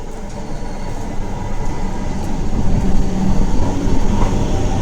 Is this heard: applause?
no